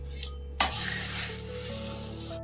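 Fried corn is stirred into a puffed rice chivda in a pan, starting with a sharp metallic clink followed by a continuous dry, rustling scrape of the crisp mixture, close and steady.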